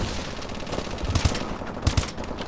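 Gunfire in the video game Call of Duty Advanced Warfare: rapid automatic bursts crackle against a busy game backdrop, with two sharper, punchier volleys standing out near the middle and end.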